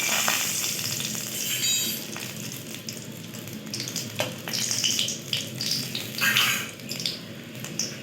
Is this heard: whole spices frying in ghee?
yes